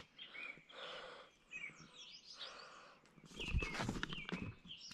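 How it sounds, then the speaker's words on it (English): Several birds chirp on a spring morning outdoors in Manitoba, with bursts of high tweets in the first half, then a louder rustle or movement near the microphone. "Birds are chirping."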